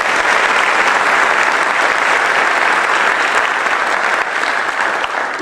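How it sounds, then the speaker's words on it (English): An audience at a university athletic hall of fame ceremony applauds its coaches with dense, sustained clapping that holds steady and loud for the whole stretch, easing only slightly near the end. "let's give a round of applause to our coaches"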